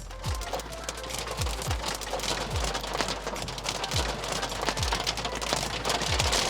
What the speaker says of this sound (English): it started raining right in the middle of our shoot